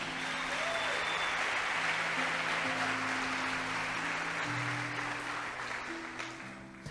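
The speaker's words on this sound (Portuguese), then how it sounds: "E se você concorda, aplauda Jesus." Church congregation applauding during a worship service in Rio de Janeiro, a broad, sustained wash of clapping with sustained tones beneath it, moderately loud and fading slightly toward the end.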